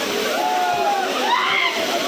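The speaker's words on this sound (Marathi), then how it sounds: "पाण्यात मोबाईल गेला." A mobile phone drops into the water at a hidden waterfall pool, giving a brief soft splash and sloshing amid flowing water and nearby voices.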